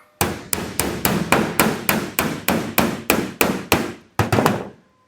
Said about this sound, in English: As I hammer this, it's going to bring this up a little bit.